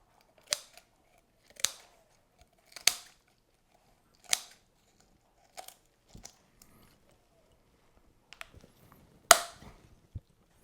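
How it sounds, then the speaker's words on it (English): Kitchen shears snip through raw chicken in a barbecue cooking setting, a series of sharp, crisp cuts spaced about a second apart, close and isolated with quiet between them. "Then get some nice kitchen shears, cut along that line."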